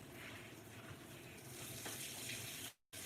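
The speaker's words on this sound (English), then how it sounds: "Let that run till I get some hot water." A kitchen tap runs steadily, filling a bowl with hot water, a constant broadband hiss and splash that is fairly close and continuous, then cuts briefly near the end before resuming.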